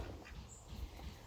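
A farm duck gives faint, short quacks outdoors on a muddy farm, soft and somewhat distant against a low background.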